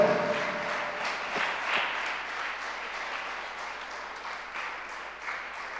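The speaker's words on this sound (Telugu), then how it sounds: "చప్పట్లు కొట్టండి." A church congregation claps hands during a Sunday worship service, a sustained, slightly reverberant patter of many hands that fades a little toward the end, with no talking over it.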